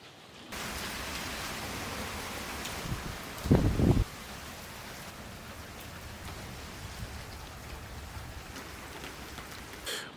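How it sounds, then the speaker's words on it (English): Heavy rain pouring down outdoors in a steady dense hiss that holds throughout, with a brief louder rumble or gust partway through and no voices. "Look at that rain, man."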